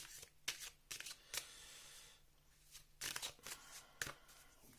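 Tarot cards being shuffled and drawn, quick crisp riffling bursts in irregular clusters separated by short pauses, close and fairly quiet.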